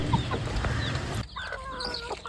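Country chickens cluck in a run of short, close calls, with busy noise in the first half and clearer, separate clucks after it.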